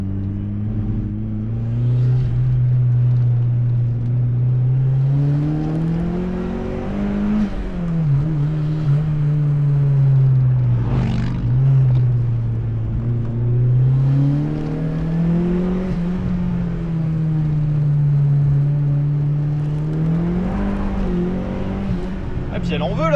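A turbocharged Mazda MX-5 NA engine revs and pulls while driving, its pitch rising and falling through repeated throttle changes, loud and close in the cabin, with a person talking over it.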